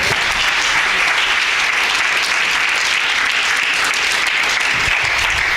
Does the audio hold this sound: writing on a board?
no